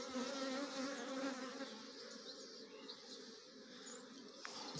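Honey bees buzz steadily throughout a beehive inspection, a dense, continuous drone close by with no talking.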